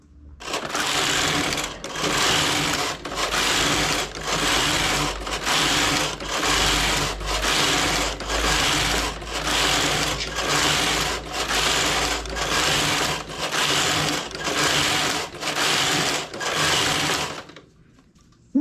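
A flatbed knitting machine carriage knits a lace stitch, sweeping back and forth in about a dozen regular, loud rasping passes, each roughly a second long and separated by brief pauses.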